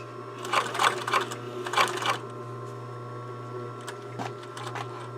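Sewing machine running a basting stitch along a blouse edge: two quick bursts of fast rhythmic needle clatter over a steady motor hum, then a pause and a few short stitching taps close by.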